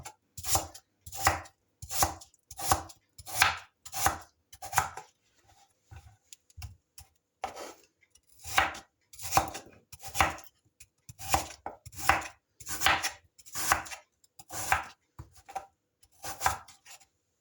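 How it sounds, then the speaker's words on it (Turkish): Repeated crisp chopping strokes of potatoes being sliced with a cutter, in quick bursts separated by brief pauses, close and clear. "Şöyle patates aparatıyla doğruyorum."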